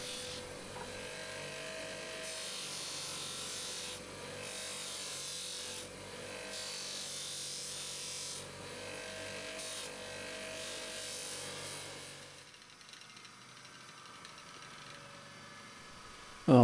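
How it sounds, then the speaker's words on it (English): Oloid pieces polished against the buffing wheel of a bench grinder, a steady close whirring and rubbing hum with changes in pressure that fades toward the end before a sudden knock. "So it's over to the grinder to give them a polish on the buffing wheel."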